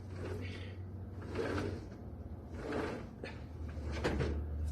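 A damaged door is pulled open by hand, fingertips hooked into the gap and both hands pulling, giving several close scraping and creaking pushes in repeated efforts with short pauses between, over a low steady hum.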